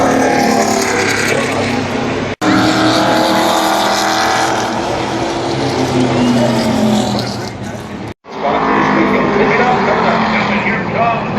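Race cars at Pocono Raceway roar past on the track in a loud, sustained wall of engine noise that rises and falls as the pack streams by, with brief cuts between passes.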